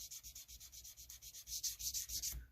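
Sandpaper on a sanding beam rubs across the jumbo frets of a Jackson compound radius guitar neck in quick, even back-and-forth strokes, a soft rhythmic rasp close up and alone.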